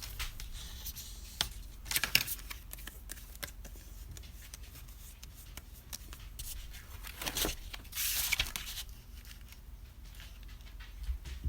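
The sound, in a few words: scissors cutting cardstock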